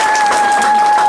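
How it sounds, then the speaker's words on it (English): A crowd claps at a Garvey Day 2019 gathering held by a Chicago chapter of the UNIA-ACL, a dense, loud, steady wash of applause with a faint steady tone running underneath. "Y'all clap it up one more again."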